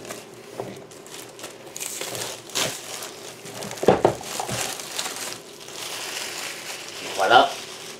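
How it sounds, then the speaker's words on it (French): Plastic shrink wrap being pulled and crumpled off a Dinosaur Island board game box, close crinkling and tearing bursts with pauses between them, with someone talking intermittently. "La pellicule est enlevée."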